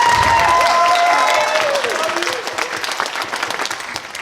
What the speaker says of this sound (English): A round of applause for the emissary of sound guy.